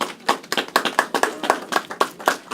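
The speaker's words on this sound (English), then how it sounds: "Let's give them a round of applause." A small audience claps in a quick, uneven patter of sharp, distinct handclaps, each one crisp and close, with no voices over it.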